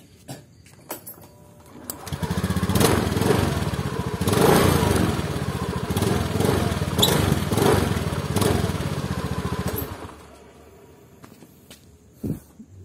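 A freshly serviced motorcycle engine with a new air filter idles and revs smoothly for several seconds, a loud, close mechanical rumble that then drops back down.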